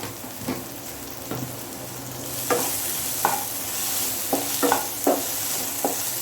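Poha tinted with turmeric, with potato, gets stirred in a pan: a series of short scraping, clattering strokes at uneven intervals over a soft, steady cooking hiss, close and moderately loud.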